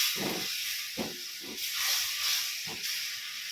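Chicken wings frying in a pan for lemon chicken wings give off a steady loud hiss of hot oil, with a few soft clinks and bumps from cooking.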